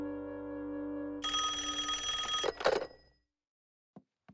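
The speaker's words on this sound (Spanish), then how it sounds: "Alguien debe contestar el teléfono." An old-style telephone bell rings loudly in a house for about two seconds, a harsh rapid metallic trill that follows a steady tone and then cuts off, leaving a few faint clicks and near silence.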